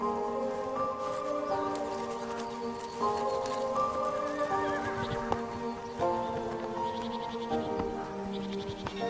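Wild Dolman horses in open countryside, loud neighs and whinnies rising over a continuous bed of sound, with hoof thuds scattered through.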